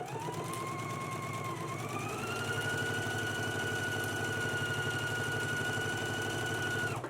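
A sewing machine stitches a front facing onto a garment neckline: a continuous close whirring motor with rapid needle pulses, its pitch stepping up after about two seconds and then running evenly to the end.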